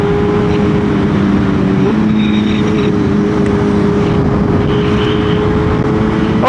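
A BMW M1000R motorcycle fitted with a Sprint air filter and carbon fiber windscreen rides a gravel road, its engine holding a steady, fairly loud drone beneath constant wind rush.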